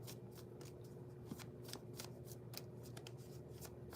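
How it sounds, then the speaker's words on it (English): Housewives Tarot cards being shuffled by hand, a steady run of soft riffling and papery slaps repeating several times a second, close and continuous, with no talking. "So let's get some energy cards from the Housewives Tarot."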